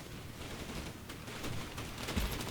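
Rapid bursts of video game gunfire rattle under dense, noisy game audio, sustained and fairly loud throughout with no speech.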